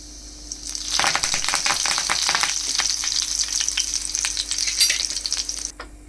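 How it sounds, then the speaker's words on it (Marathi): Cumin seeds hit hot oil on a low gas flame and burst into dense crackling and popping after a second of quiet, then keep spattering busily before cutting off near the end. "जिरं टाकूया टाकले गॅस बारीकच ठेवायचे जिरं फुललं की कढीपत्ता"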